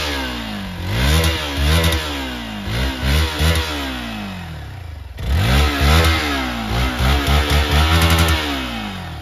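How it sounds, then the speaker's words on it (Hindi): A 2023 Hero Xpulse 200 4V motorcycle revs repeatedly through its exhaust, the note climbing and dropping in short blips, close and fairly loud, with no talking over it. "तो यार ऐसा था कुछ इसका एग्जॉस्ट नोट"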